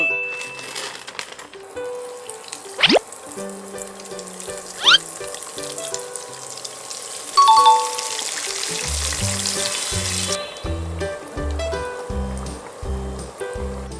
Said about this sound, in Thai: ต่อไปพ่อจะทอดไก่กรอบทรงลังพึ่ง